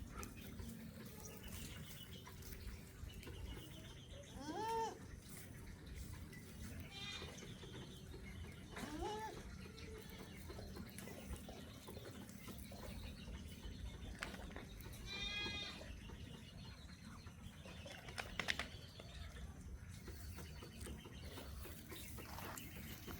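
A single goat on a farm bleats in a few short calls heard at a moderate distance, spaced apart over a low rural ambient background.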